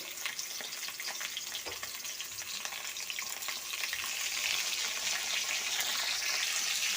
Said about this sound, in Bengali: তেলটা আমার গরম হয়ে গেছে এবার আলুগুলো দিয়ে দেবো